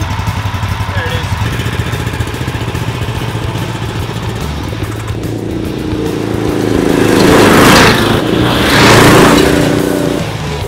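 A go-kart fitted with a 420cc Murray engine runs nearby with a buzzy, mower-like drone that swells into loud revving as it accelerates away and back, with a voice speaking early on.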